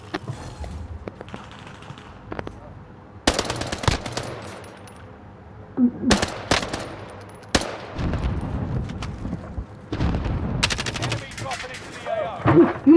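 Call of Duty gunfire: bursts of automatic weapon shots crack out in several sharp clusters across a noisy in-game firefight, loud and close, with occasional shouted voices in the background.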